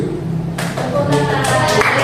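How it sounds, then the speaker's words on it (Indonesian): A group of teachers at a school training session clap their hands together in a brief, dense burst that rises partway through, with a voice talking over it. "Tepuk tangan untuk kita semua."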